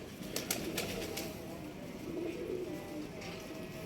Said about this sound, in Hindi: एक कबूतर भी अपना ऊपर है